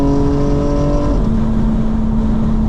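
A 900hp 2025 BMW M4 Competition xDrive gives off a loud, close exhaust drone from inside the cabin. It holds steady, then the pitch drops abruptly into a low, rough burble.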